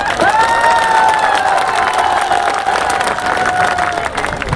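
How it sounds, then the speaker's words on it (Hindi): At an outdoor festival fair, a crowd claps and cheers loudly, with a sustained whistle-like tone and shouts riding over a dense, continuous roar of applause. "थोड़ी तालियां आपकी कमजोर थी, तालियां बजा के बताइए"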